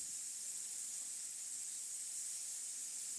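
Paint sprayed onto a painting of flames and firewood, a steady soft hiss of aerosol held evenly and quietly throughout.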